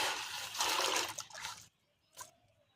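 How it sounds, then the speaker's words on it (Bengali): Water pours over previously used sand being rinsed before planting chrysanthemum cuttings, a dense close splashing rush for about a second and a half, then a brief quieter trickle after a pause. "আমার এই বালিটি আগে ব্যবহার করা হয়েছে বলে আমি একবারই ধুয়ে নিচ্ছি"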